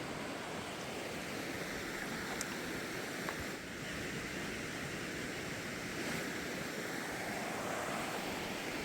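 Panther Creek on a hiking trail flows steadily, a broad continuous rush of water with a constant level, close by and alone with no talk.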